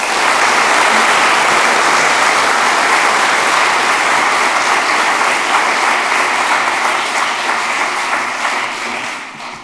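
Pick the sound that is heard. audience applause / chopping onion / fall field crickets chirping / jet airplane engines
audience applause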